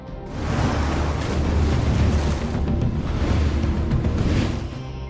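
Surf washing onto a beach at one in the morning, a steady, fairly loud roar of breaking waves with a windy rush, continuous and unbroken with no voices.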